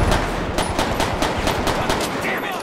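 Rapid burst of gunfire in GTA V with the LSPDFR police mod, a dense string of sharp loud shots in quick succession over about two and a half seconds, close and continuous.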